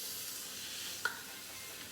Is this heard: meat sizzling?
yes